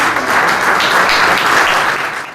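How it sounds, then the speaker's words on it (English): Loud, dense applause from an evening event audience welcoming the chief guest, even and continuous throughout, with no speech on top. "Can we give a loud round of applause to our honorable chief guest"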